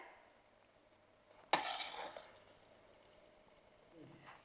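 A spoon stirs and fries a ground spice masala for black chicken in a pan after a splash of water goes in. One sudden sizzling burst fades over a few seconds, with faint scraping in an otherwise quiet kitchen.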